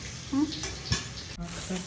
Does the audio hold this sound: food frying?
yes